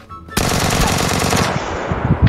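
Rapid automatic gunfire in the PUBG video game rattles out in a loud, sustained burst, with a few heavier shots near the end.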